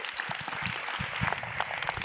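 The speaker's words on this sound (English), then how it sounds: "Give her a round of applause." Audience applause at a sales and recruiting training session, a continuous patter of many hands clapping at moderate volume with some louder individual claps near the listener.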